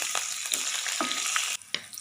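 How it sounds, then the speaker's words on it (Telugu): Finely chopped onions with green chilli pieces and dried red chillies frying in a pan for a home-style vepudu, giving a steady hissing sizzle with a few soft stirring knocks. "చిన్నగా కట్ చేసుకున్న ఉల్లిపాయ ముక్కలు, మంచిగా వేయించండి"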